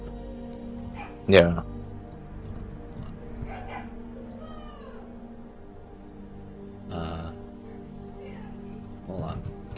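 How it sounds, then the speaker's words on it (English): A dog gives a sharp yip near the start, then a few fainter yelps and whimpers follow, mixed with people talking nearby. "also the dog's barking"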